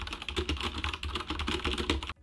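Fast, steady typing on a mechanical keyboard with Zorro brown tactile switches, close and crisp, rapid clacking keystrokes that stop abruptly at the end.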